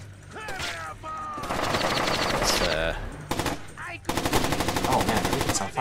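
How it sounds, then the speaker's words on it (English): Gunfire in the video game Splinter Cell: Chaos Theory: loud, rapid automatic bursts in quick repeating volleys, with brief breaks between them and game sounds mixed in, close and continuous. "Oh, that's a shot."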